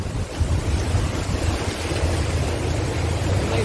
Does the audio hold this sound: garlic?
no